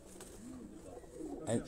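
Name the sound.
pigeon cooing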